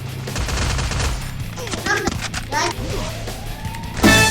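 Rapid gunfire bursts rattle in a Free Fire match, overlapping shots with a louder burst near the end, while a player talks excitedly over the shooting.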